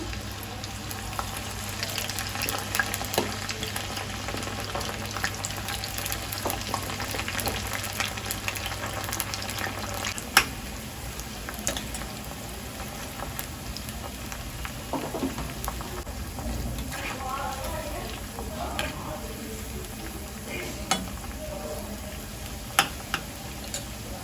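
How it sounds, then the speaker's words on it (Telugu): Sweet corn kernels coated in flour and pepper deep frying in hot oil in a pan, a continuous crackling sizzle with scattered pops, steady and close, with no talk. "ఇప్పుడు ఇది ఇంట్లో వేసుకుని మూకుట్లో డీప్ ఫ్రై చేసుకోవాలి"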